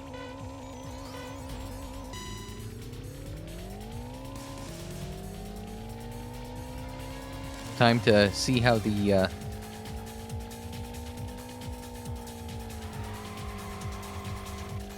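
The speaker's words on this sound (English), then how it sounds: "Now we're on Yamashita Street against a slightly underpowered Civic. Oh, it's a drag race." Game cars drag racing on Yamashita Street in Racing Lagoon, a steady engine drone rising in pitch through gear shifts, with a brief burst of screeching tire squeal midway, all under continuous talking.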